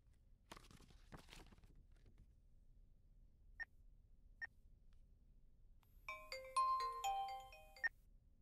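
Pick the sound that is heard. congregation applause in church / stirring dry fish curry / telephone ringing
telephone ringing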